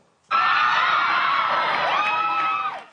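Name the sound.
audience cheering as Brett attempts a stage dive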